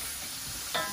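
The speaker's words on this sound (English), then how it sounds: "And it just very gently saute them" Shrimp gently sautéing in a pan for aglio e olio, a steady soft sizzle running throughout with a brief louder rise near the end.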